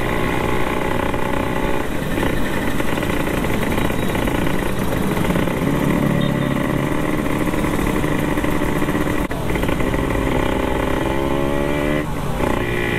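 A group of Vespa scooters idles together at a community charity ride gathering, making a dense, steady, loud engine drone with a few revs rising over it. No one talks.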